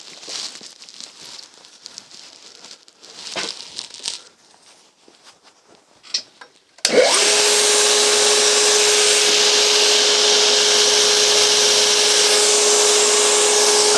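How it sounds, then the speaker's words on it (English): A knife blade is pressed against a 10-inch grinding wheel in a steady, loud, hissing grind that starts abruptly partway through and holds constant to the end, after a stretch of quiet shop handling noises. "And I am grinding with a 10-inch wheel. So it's going to make a shallow hollow grind."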